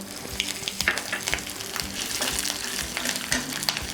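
Peanuts fry in hot oil in a pan for raw mango poha, giving a dense, steady crackle and sizzle with scattered sharper pops throughout, close and fairly loud, with no voices.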